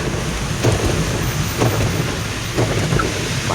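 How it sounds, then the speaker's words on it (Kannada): Heavy monsoon rain at Bisle Ghat, a loud, dense, continuous wash of rainfall with faint low rumbles, steady throughout. "ಮಳೆ ಅಂದರೆ ಮಳೆ ಗಾಯ್ಸ್, ತುಂಬ ಮಳೆ"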